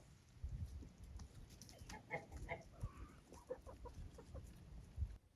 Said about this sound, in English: And the new chickens aren't freeloaders.